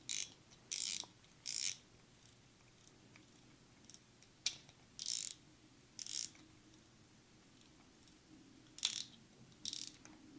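Daiwa Legalis LT spinning fishing reel with its drag clicking as the spool is spun: repeated short bursts of rapid ratcheting clicks separated by quiet pauses, close and clear, with no voices.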